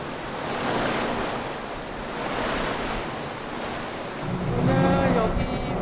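Surf rolls and wind buffets near a harbour on a winter sea, a steady roar that swells in slow waves, with a faint tonal hum creeping in toward the end.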